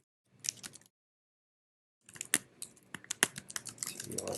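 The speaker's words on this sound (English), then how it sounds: "You can type whatever you want in here." Fingers typing on a computer keyboard up close: a short burst of key clicks, a second of silence, then a longer run of quick, uneven taps.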